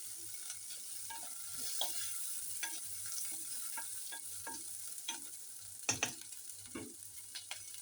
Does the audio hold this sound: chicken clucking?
no